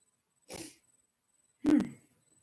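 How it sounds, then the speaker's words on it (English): Two separate sneezes a second apart, the second louder and sharper, with quiet in between, from a person reacting to dust during house cleaning. "I've been sneezing a lot because there's dust everywhere"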